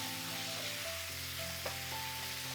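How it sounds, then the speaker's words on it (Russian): Ground beef fries in a skillet with a continuous, even sizzle and faint stirring, heard close and alone. "Выкладываю в сковородку фарш"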